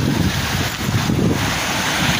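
Sea waves and wind at the shore during fishing on the northern coast, a loud continuous wash of surf mixed with heavy wind buffeting the microphone.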